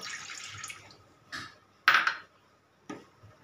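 Water poured into a wok for boiling cut jackfruit core, a soft splashy pour in the first second followed by a few sharp metallic knocks of a vessel, all fairly close and alone.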